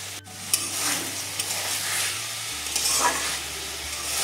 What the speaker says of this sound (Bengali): উচ্ছে দিয়ে আলু নিরামিষ ফ্রাই হয়ে এসেছে